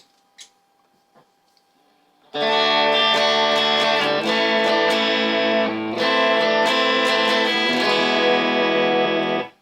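After a few quiet ticks, a Harley Benton ST 62 electric guitar through a compressor pedal enters loudly with even, sustained, compressed strummed chords that ring steadily until a sudden stop.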